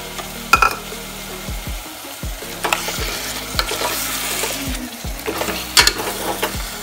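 Tomato paste sizzles while being stirred in a pan for a Hariyali chicken masala, with repeated scraping strokes of the spoon over a steady frying hiss.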